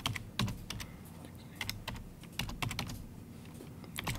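Keys on a computer keyboard tapped in quick irregular bursts as an IP address is entered, close and moderately loud over a low background hum, with no talking.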